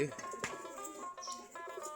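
Giribaz pigeons gathered near their loft at dusk give soft, faint coos, several short calls overlapping at a gentle distance.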